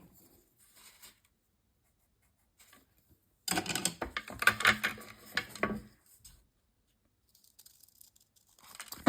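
Decorative paper being cut to size for a folio cover, a close burst of tearing, crinkling cuts lasting about two seconds, with quiet handling rustles before and after.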